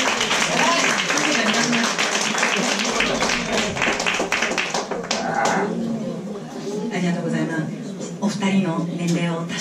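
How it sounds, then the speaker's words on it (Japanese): An audience applauds two young performers at a small live music show, the dense clapping filling the room steadily while voices and scattered calls carry on over it. "若いお二人にもう一度拍手を。"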